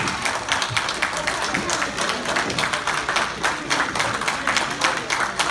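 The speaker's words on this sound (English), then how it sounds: "It should be a round of applause." Wrestling audience at an SWF Hall of Fame induction clapping for Preston Montgomery, Esquire; a steady spread of claps, moderately loud, with a voice speaking over it.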